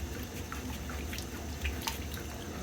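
Water draining from a steam boiler sight glass, a faint continuous trickle with scattered soft drips.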